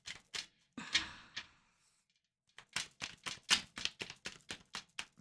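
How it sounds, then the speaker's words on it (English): Tarot cards are shuffled by hand, a series of crisp, quiet riffling and tapping bursts, a few at first, then a pause, then a quick rhythmic run of close, dry card snaps. "They really want me to shuffle."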